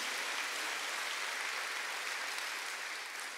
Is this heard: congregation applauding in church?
yes